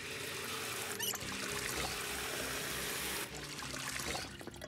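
Crops are watered in the Project Zomboid survival game, a steady rushing pour of water that runs for a few seconds, dips, then continues, with no talk over it.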